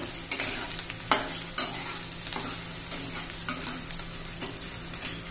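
Onion sautéing in a pan for a spicy garlic gram-leaf dish, a constant bright sizzle with regular scraping stirs of a spatula, close and steady with no talking.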